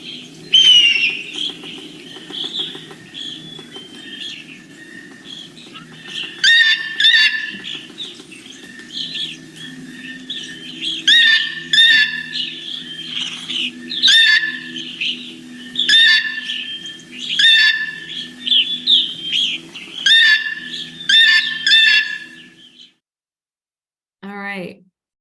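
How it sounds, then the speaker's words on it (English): Recorded blue jay calls played back for a bird sound identification app, harsh repeated squawks in clustered bursts over a faint low hum, ending with a brief voice. "So we could see Merlin was picking up that blue jay."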